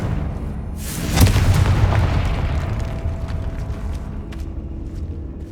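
A Confringo fire spell explodes in Hogwarts Legacy, a single booming blast followed by a rumbling, crackling decay that lingers for several seconds with no voices over it.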